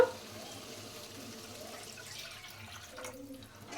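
Water is poured into a cooking curry in a home kitchen pot, a soft trickling splash that builds briefly and then fades, faint and close.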